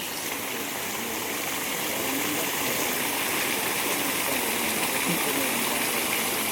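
A 7.5HP solar water pump powered by fifteen 600-watt panels gushes water under strong pressure from a 2.5-inch delivery pipe on a farm, a loud, steady rushing roar that holds unbroken throughout.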